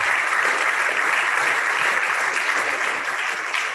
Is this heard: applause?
yes